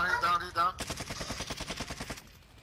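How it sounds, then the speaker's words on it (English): Rapid bursts of automatic gunfire during a video game battle, a fast rattling string of shots after a brief voice, fading toward the end. "I got a mortar strike on me"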